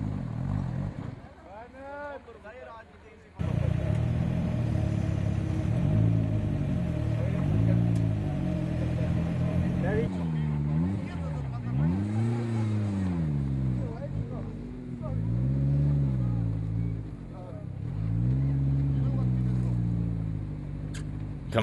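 A 4x4 off-road vehicle's engine labours and revs as it jumps up an incline at a national 4x4 challenge, a loud continuous rumble with rising and falling pitch sweeps, heard under a commentator's talk.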